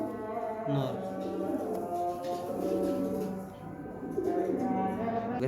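A male Hammer pigeon coos in low, repeated, throaty calls close by, with faint background sounds and no clear speech.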